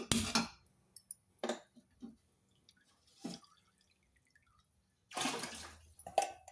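Water drips and drains from boiled vermicelli in scattered bursts, with a few short splashes and trickles separated by near silence.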